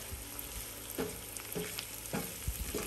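Oyster dressing sizzles softly in a pan, with a few distinct scrapes and stirring knocks spaced about half a second apart over a steady frying hiss.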